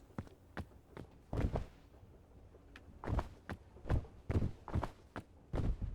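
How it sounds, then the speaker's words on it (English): Heavy, thudding footsteps of a video game character walking, a steady series of close, dull impacts at an uneven pace with short pauses between. "I have really heavy footsteps."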